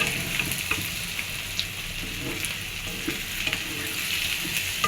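Onions frying in a pan on a low-pressure gas stove, a steady close sizzle with faint crackles and small ticks throughout, no voices.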